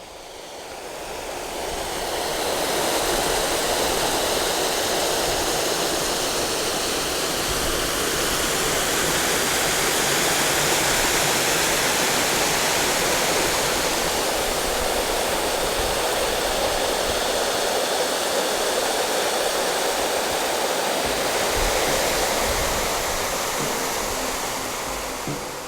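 A waterfall pours in a ghost town area that floods for much of the year, a loud, steady broadband roar of rushing water that fades in at the start and holds unbroken, with no voices.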